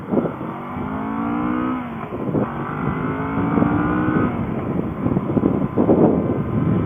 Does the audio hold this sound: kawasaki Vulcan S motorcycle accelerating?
yes